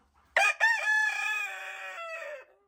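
A rooster lets out a single loud crow in a farm coop, a drawn-out, sharply pitched call close to the listener with quiet before it.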